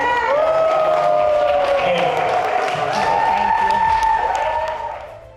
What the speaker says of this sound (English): Let's give a warm round of applause to Dr. Susie.